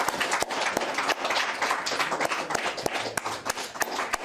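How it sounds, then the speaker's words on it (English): Church congregation applauding with loud dense clapping at a worship gathering, mixed with scattered louder hand claps and crowd noise throughout, steady and close. "A great big applause."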